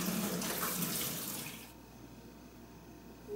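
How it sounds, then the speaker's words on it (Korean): Cold tap water runs hard onto blanched food in a kitchen sink, a loud close rushing splash that cuts off partway, leaving quiet room tone. "살짝만 데치신 다음에 찬물에 헹궈주세요"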